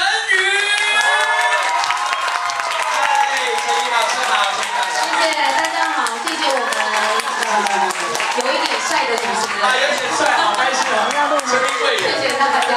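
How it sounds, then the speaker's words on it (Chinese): A studio audience applauds and cheers to welcome a guest, with sustained loud clapping, whoops and crowd chatter filling the whole stretch. "各位不要吝啬你们的掌声，让我们以最热烈的掌声欢迎陈云。"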